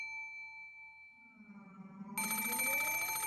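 In the Umineko visual novel, a single telephone ring bursts in sharply and loudly, preceded by a fading tonal hum and a rising swell, with no voices.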